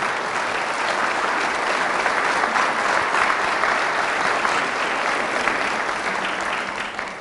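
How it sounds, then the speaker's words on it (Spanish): Steady crowd applause fills the whole stretch in a church gathering during a healing and deliverance sermon, dense and even throughout before easing slightly at the end. "Fuertes aplausos a Jesús de Nazaret"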